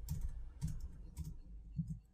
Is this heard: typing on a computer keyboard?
yes